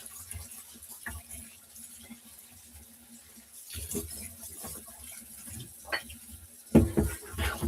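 Water from a kitchen faucet runs into a sink to soak dishes, a soft, steady trickle and splash with occasional clinks and knocks of dishware, growing busier toward the end.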